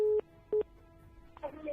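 Telephone line tones on a radio call-in show: two short, steady beeps separated by a pause, then a brief burst of line noise and distorted tones as the caller's line connects. The tones are clear and fairly loud.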